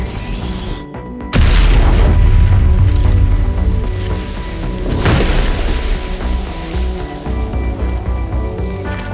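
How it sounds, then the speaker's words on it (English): Arc flash of about 14 calories inside an NFPA 20 fire pump controller, a sudden loud blast after a brief silence, followed by sustained roaring, crackling and sizzling electrical burn with a second burst midway. "a fire pump controller designed to NFPA 20 standards, experiencing a real 14-calorie arc flash"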